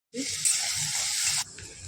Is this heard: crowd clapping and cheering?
no